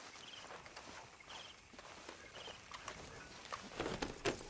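Horse hooves clip-clopping in a video game, a quiet, continuous patter of footfalls over low background noise with a few louder hits near the end.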